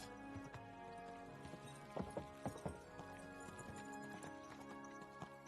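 Horse hooves clip-clopping in Kingdom Come Deliverance 2, a cluster of distinct hoofbeats over a steady background hum, fairly quiet overall.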